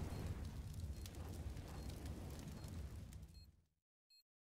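Flashbang grenade going off in a Counter-Strike match on the map Cache, a loud rumbling burst that rolls on for over three seconds before cutting to silence, followed by a short faint tone.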